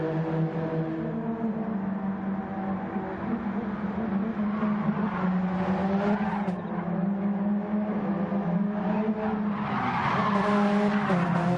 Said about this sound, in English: Oh, the drift around turn 12.